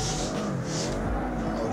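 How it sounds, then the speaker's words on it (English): A Chevy GT race car in Assetto Corsa pulls hard in third gear, its engine a loud, continuous, close-up roar that climbs steadily for a short burst. "Let's go into that third gear,"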